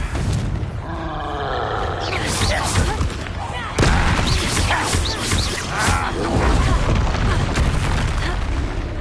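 Booming blasts from the Confringo fire spell in Hogwarts Legacy, heavy explosive bursts rolling over one another loudly and close against a dense battle din, with a voice calling out in between.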